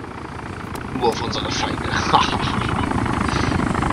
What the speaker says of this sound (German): Eh nur dieser NPC-Helikopter, der auf nichts schießt.